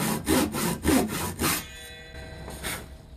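Handsaw cutting a kerf in wood for a bridle joint, about five close back-and-forth rasping strokes in a steady rhythm, then a brief pause and one softer final stroke.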